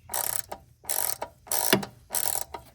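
A T25 screw is backed out of an intake manifold absolute pressure sensor with a ratcheting driver, giving four quick, close bursts of clicking ratchet teeth separated by short pauses.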